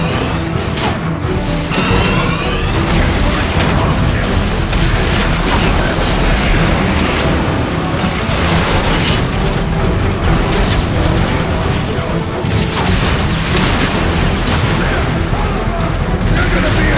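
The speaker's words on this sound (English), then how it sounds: "Optimus, how about calling in an artillery strike?" Dense, continuous barrage of booming explosions and crashing impacts from an artillery strike in Transformers: Fall of Cybertron, loud and relentless with metallic clatter and gunfire mixed in throughout.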